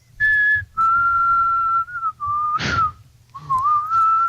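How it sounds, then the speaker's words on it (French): A person whistles a series of sustained, steady tones with brief gaps between them, close and clear, with a short breathy rush in the middle. "On appréciera dans vos oreilles les sifflements"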